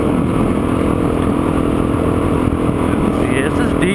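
A dual sport motorcycle rides through deep, soft sand in a desert wash, its engine droning loud and close at a steady, even throttle with gritty rumble and wind noise.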